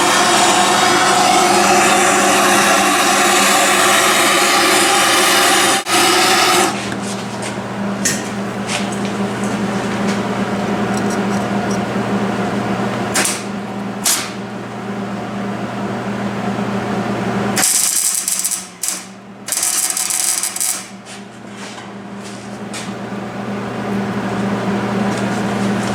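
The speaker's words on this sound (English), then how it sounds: "We're gonna preheat it a little bit with this torch and then we're gonna tack weld it in." A torch hisses steadily while preheating the rear differential of a twin-turbo Dodge Ram 1500 over a low shop hum, followed later by two short, sharp bursts of tack welding.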